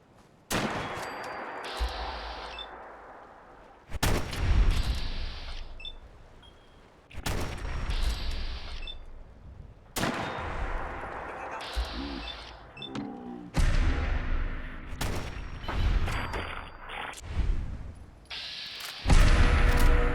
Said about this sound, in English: That explosion over there was a super mutant suicider who runs up on you and detonates a freaking mini nuke